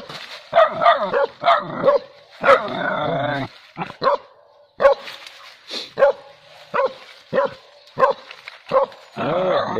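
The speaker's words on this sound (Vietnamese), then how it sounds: "Chó đã đuổi được con cáo mèo nha." A dog chasing a leopard cat barks loudly and repeatedly in sharp, close bursts, with brief yelps and whines between the barks.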